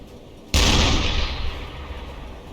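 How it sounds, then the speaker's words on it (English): Submarine deck gun on a U-boat firing at a ship in the game UBOAT: one sharp, loud boom followed by a long rumbling decay, with no talk. "We can definitely sink this with just our deck surface guns."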